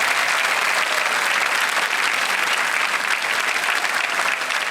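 Loud studio audience applause on the Kaun Banega Crorepati quiz show set, a thick, sustained roar of many hands clapping at once, steady from start to finish with no talking over it.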